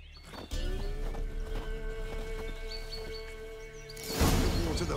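Horse hooves clip-clop in The Witcher 3: Wild Hunt, a steady walking rhythm of muffled hoofbeats under a sustained tonal hum, swelling into a louder, busier clatter near the end.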